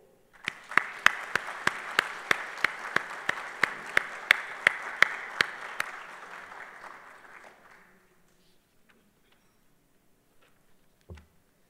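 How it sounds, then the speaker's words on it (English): Conference audience applause at an ownership conference in Jakarta, clapping fairly sparse with distinct individual claps over a steady patter, fading out after about seven seconds into near silence with a faint thump at the end. "if I can have a big applaud"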